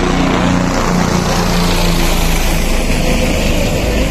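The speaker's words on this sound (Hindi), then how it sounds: "इतने पास से चल रहा है हेलीकॉप्टर।" A helicopter passes close overhead on the Kedarnath Dham pilgrimage route, its rotor and engine making a loud, dense, steady roar with a rapid pulsing beat that fills the whole stretch without pause.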